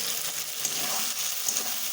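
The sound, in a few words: potatoes and tomatoes frying with spices in a pan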